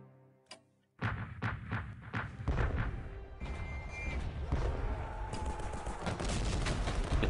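Artillery fire in the World War One strategy game Strategic Command WW1, a series of sharp booming impacts followed by a dense, continuous barrage of blasts that builds and holds steady.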